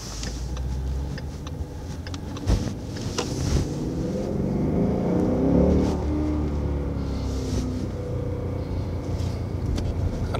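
Audi Quattro engine rumbling steadily while driving slowly, heard from inside with a constant low drone, some road noise and a few brief clicks and knocks, with no talking.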